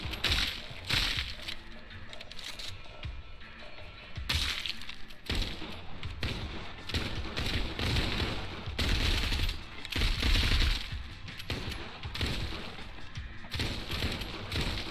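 Bursts of gunfire from the Arizona Sunshine video game crack repeatedly in irregular clusters, loud and close, with brief pauses between volleys.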